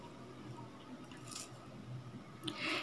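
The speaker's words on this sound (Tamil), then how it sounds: "இதெல்லாம் சேர்த்து நல்லா பிசைச்சு விட்டுக்கலாம்." Chickpea vada batter mixed with onion is squeezed and kneaded by hand, giving soft, wet squelching and squishing noises. The sounds are quiet and close, with no talking.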